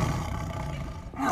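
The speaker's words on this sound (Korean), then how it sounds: "호랑이 울음소리 같은 것도 들려주면 어떻게 될 것 같아요?" A loud tiger roar played through a loudspeaker fills the whole moment, a sustained rumbling growl that swells again at the end, with no talking over it.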